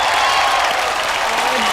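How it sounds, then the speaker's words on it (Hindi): Audience applause and crowd noise in a comedy TV show studio, a continuous loud wash of clapping with some cheering mixed in. "एक बार जोरदार तालियां हमारे सुपरस्टार दिव्या दत्ता, जूही चावला और सरोज खान जी के लिए।"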